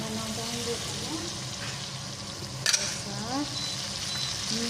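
Chicken fries in a pan for chicken pangra with a continuous loud sizzle and crackle, stirred with a brief scraping clatter midway, while a voice talks faintly underneath.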